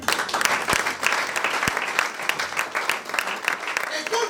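A church congregation applauds and cheers the Lord with steady, lively clapping that runs throughout, with voices of the crowd mixed in.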